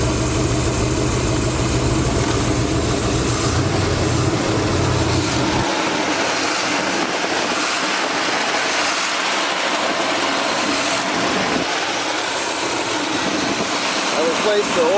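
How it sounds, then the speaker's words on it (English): On a 1979 Chevy G20 van, a steady engine idle drones loudly, then a deep low hum drops away partway through as the compressor cycles, leaving a continuous mechanical whir with people talking over it. "Yeah, compressor kicked in."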